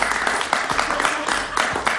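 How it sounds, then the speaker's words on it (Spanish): A studio audience at a Jaime Bayly interview breaks into steady, brisk applause, a dense patter of many hands with a voice faintly mixed in underneath. "Un aplauso para él."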